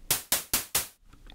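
Four short white noise bursts from an Ableton Operator synth patch, each sharp attack fading quickly in an even, rapid repeating rhythm, followed by near silence.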